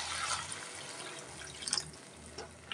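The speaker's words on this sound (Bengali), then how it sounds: "আমি এখন একটু ঝোল দিয়ে দেব।" Broth is poured into a pan of hilsa fish curry frying in oil, giving a steady loud sizzling hiss with a brief bubbling surge midway.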